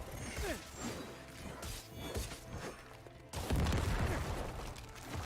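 Necromancer's corpse explosion in Diablo 4 gameplay: a string of loud, crunching blasts and thuds over a busy battle din, with a heavier burst about two-thirds of the way through.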